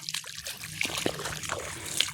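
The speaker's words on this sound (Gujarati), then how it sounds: "જો મિત્રો ખેતરમાં પાણી ભરાઈ ગયું છે" Rainwater trickles and splashes softly through a flooded farm field, a continuous close gurgling trickle at low level with no voices.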